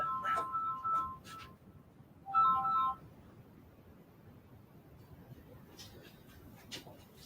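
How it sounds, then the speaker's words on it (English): A phone gives a few short electronic ringtone bursts, two quick beeping phrases close together followed by a pause, faint and near, with no talking over it. "I see my phone's ringing."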